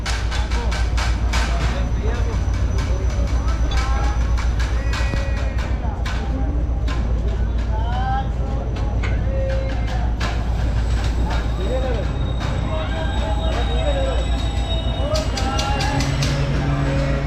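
Karakoram Express passenger train easing slowly into a station platform, a steady rumbling roll with scattered clanks and squeals of wheels and brakes, continuous and fairly loud, with people talking nearby over the noise.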